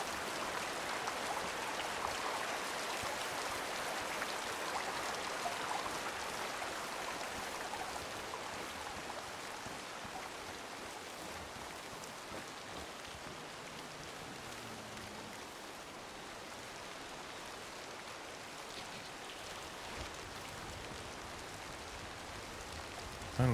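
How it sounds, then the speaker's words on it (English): Steady rain pouring in the hunting video game Way of the Hunter 2, a dense, even hiss of falling water that fills the whole stretch without pause or voices. "the game takes into account the noise of the rain"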